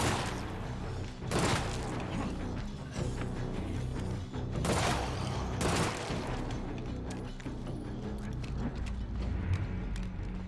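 Machine pistol gunfire in State of Decay 2 against a zombie horde, with a few loud broadband bursts standing out over a steady, dense wash of game noise.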